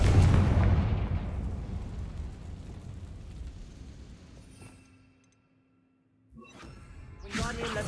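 A Confringo blasting spell erupts in Hogwarts Legacy, a loud booming explosion that rumbles and decays over several seconds into near silence before another sharp burst follows.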